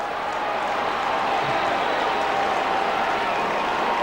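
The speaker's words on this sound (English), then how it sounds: "you can hear the crowd find voice looking for that piggybacking penalty downfield" Rugby league crowd at a 1997 Newcastle Knights versus Manly-Warringah Sea Eagles match, roaring for a penalty: a loud, sustained, even wash of stadium noise that holds steady throughout.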